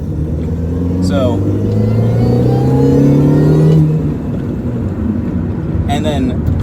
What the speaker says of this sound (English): Like there, I did a small acceleration up to literally the speed limit.